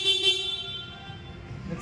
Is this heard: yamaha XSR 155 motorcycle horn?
yes